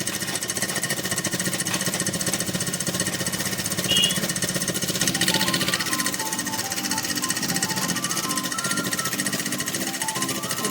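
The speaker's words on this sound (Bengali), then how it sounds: "আবার এইখানটা মুখটা একটা সেলাই দিয়ে এই ধার দিয়ে আরেকটা সেলাই দিয়ে দেবো।" A sewing machine running steadily while stitching the edge of a lungi, a continuous close mechanical whir with rapid rhythmic needle clatter and no pauses.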